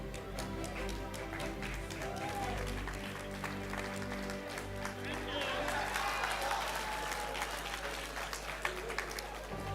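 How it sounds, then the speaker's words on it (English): Audience at a high school retirement and long service awards banquet applauding, sustained clapping over a low steady hum, with voices and music-like tones in the room. "Let us keep the applause coming"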